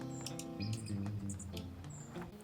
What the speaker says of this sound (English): A family of sparrows also brought their young around to feed.